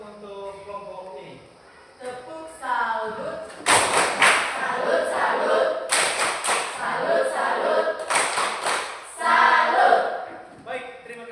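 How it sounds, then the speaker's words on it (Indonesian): A school class gives a rhythmic 'tepuk salut' clap, bursts of unison claps and thumps in a patterned beat, mixed with voices chanting along and a leading voice, loud and close. "kita sekali lagi berikan tepuk salut untuk kelompok ini"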